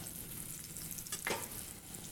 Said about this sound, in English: We need just enough to saute our mushrooms.